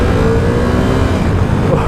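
A 2017 Ducati Supersport motorcycle engine runs close by on a first ride, a loud, rough, steady engine drone with slight wavering pitch, as if near stalling, heard alone for a couple of seconds.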